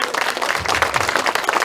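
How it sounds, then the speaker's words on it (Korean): Encouraging applause from a seated audience at a talk-show style cultural program at a Korean Confucian academy, a dense steady patter of many hands clapping close by for under two seconds. "여러분 이분 보고 앞으로 여기 무궁무궁 발전시키라고 격려 박수 한번 쳐주시기 바랍니다."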